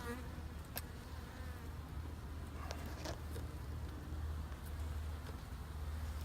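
Honey bees buzz steadily around an open painted hive housing a captured swarm, a continuous low insect drone with faint outdoor background noise and occasional brief clicks.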